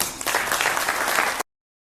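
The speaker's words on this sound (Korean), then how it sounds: "큰 박수로 맞아주시기 바랍니다" An audience claps in welcome for a speaker at a Korea-US business friendship forum, a brief burst of steady applause that cuts off abruptly into silence.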